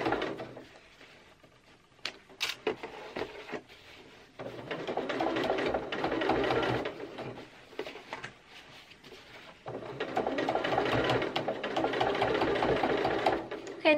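A sewing machine stitches a skirt hem in two long, steady runs with a brief pause between them, the motor whirring evenly and close by.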